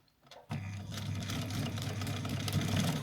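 A sewing machine runs a straight stitch at stitch length 3 through stretch fabric, starting abruptly after a brief quiet moment and then whirring steadily and close at an even, rapid pace with no talk.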